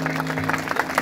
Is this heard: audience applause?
yes